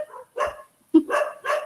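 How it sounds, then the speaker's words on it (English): A dog barks three times in quick succession, clear and close, with short gaps between the barks and no talk over them. "right now what you can hear is the sound of Dog. dog barking, right?"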